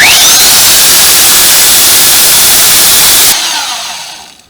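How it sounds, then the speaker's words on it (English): Loud, harsh abrasive roar of a running sanding belt with a rubber block pressed against it, then the noise cuts and fades away. "You can hit your sanding disc when it's on."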